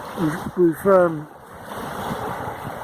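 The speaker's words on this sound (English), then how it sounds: "we've got the end of the storm here. We've got the waves coming in." Ocean waves at the end of a storm wash in with a steady broadband roar and wind across the microphone, starting beneath a brief stretch of speech and then continuing alone.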